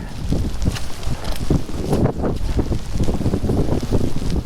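Strong, gusty wind buffets the microphone with a loud, continuous low rumble and roar at Bogney Bridge on the Dava Way, in heavy rain.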